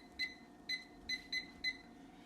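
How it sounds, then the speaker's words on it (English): A kitchen oven timer beeps five times in quick, evenly spaced pairs of bright electronic tones, close and clear over a quiet room. "Put the timer on."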